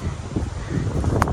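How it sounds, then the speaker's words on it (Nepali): Wind blowing on a cold hilltop, a steady low buffeting rush across the microphone, fairly loud and continuous with no talk. "त्यो हावा लागिरहेछ"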